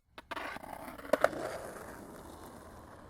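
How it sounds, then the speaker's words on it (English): A skateboard rolls over pavement with a rough, gritty rumble, marked by a couple of sharp clacks partway through before the rolling fades steadily. "when skaters hear the sound of skateboarding, it means it's time to get your board and have some fun."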